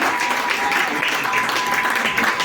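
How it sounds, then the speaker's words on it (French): A church congregation breaks into dense, sustained applause for the women during a French-language sermon, the clapping loud and continuous with a faint tone beneath. "acclamez beaucoup les femmes"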